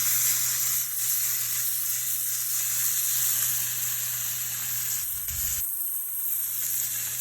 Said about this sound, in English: So what I want to do is sear it on all sides, so I'm going to get a nice crust on each side.